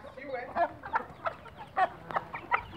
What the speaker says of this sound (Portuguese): dessa galinha, dessa preta barbuda